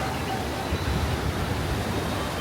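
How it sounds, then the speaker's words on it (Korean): Strong surf pounding a beach in Bali, a steady loud roar of breaking waves and rushing water with wind buffeting the microphone, continuous and close without a clear break. "와 파도 진짜 세다."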